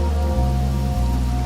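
Constant heavy rainfall in the Wuthering Waves game world makes a close, even hiss, with a low drone underneath that briefly dips twice, and no one speaking.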